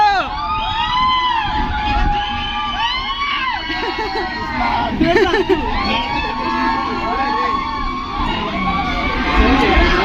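A crowd of voices shouts and whoops continuously, loud and echoing inside a railway tunnel on the Araku line, with a rumbling train background.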